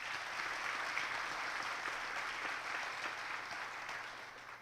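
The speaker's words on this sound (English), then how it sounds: "give a final round of applause to our presidents and our chancellor and the presenters" An audience at an education event applauds, giving a final round of applause to presidents, a chancellor and presenters, a dense wash of many hands clapping at moderate distance and steady throughout, with no talk.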